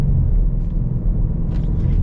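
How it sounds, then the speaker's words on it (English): A 2022 Ford Mustang Mach 1 with a six-speed manual and Handling Package gives a steady, loud low engine rumble from inside the car, with brief blips as the engine rev-matches through a shift. "it does have that automatic rev match as you shift, which is a cool touch"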